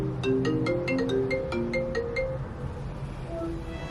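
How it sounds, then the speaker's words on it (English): A phone ringtone plays a bright, repeating electronic melody for an incoming call, fairly close and steady indoors, then fades after a few seconds. "here's the phone call."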